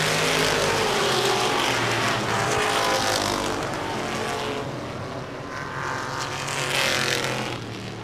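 Race cars roar around a short-track oval during a 2015 evening race, a dense, loud continuous engine roar that swells and fades as the pack passes, with no voices over it.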